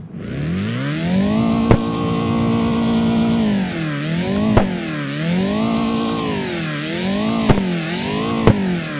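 The VZ15 engine in CarX Drift Racing Online revs loudly and repeatedly, climbing and dropping in pitch in several swells, with a few sharp clicks, close and alone.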